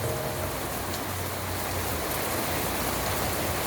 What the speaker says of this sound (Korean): 빗소리 ASMR 들어가야 될 것 같은데요